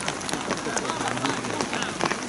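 Rain falls at a Riga FC versus RFS football match, a dense steady patter across the whole span, with talk mixed in.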